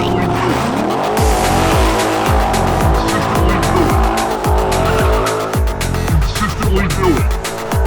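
A sports car's engine roars and revs repeatedly in sharp bursts as it spins donuts, tires squealing loudly and continuously, with voices talking over the noise.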